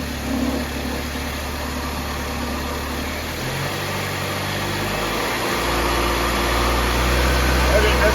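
A 2004 Saab 9-3 engine idles steadily after starting, a low continuous hum that deepens slightly partway through, with a faint high whine above it and no speech.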